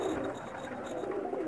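Pigeons in a rooftop loft of mixed males and females coo steadily at close range, a soft continuous murmur with no pauses.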